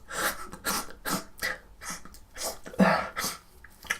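A person imitates a cinema audience sniffling and holding back tears after an emotional film, with a series of short, breathy nasal sniffs and throat sounds repeated in an uneven rhythm, close and moderately loud.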